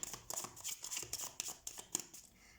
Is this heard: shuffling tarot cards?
yes